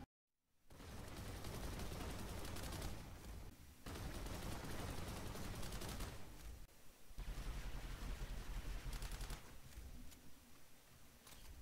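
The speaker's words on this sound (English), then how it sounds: "now I'm just going to let you guys hear what this gun sounds like" Artemis gun firing in Planetside 2, long sustained bursts of rapid automatic fire, loud and close, broken by a few short pauses, with no talk.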